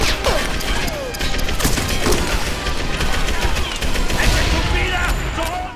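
Sustained automatic gunfire in Medal of Honor Allied Assault: a full magazine emptied in rapid bursts with dense cracks and mechanical clatter, loud and close, continuing for several seconds.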